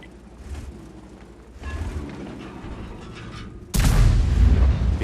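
A Grille 15 tank destroyer in World of Tanks fires one loud, deep gun blast after a stretch of mechanical whirring and clanks, and the roar rolls on after the shot.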